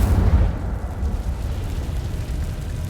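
An Incendio fire spell cast in Hogwarts Legacy, heard as a low, roaring burst of flame that rumbles on steadily for a few seconds, loud and near with no talk.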